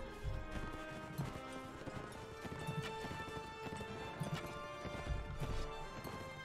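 Horse hooves galloping in a medieval battle video game, a steady rapid clip-clop of several horses in a dense, continuous rumble at moderate loudness.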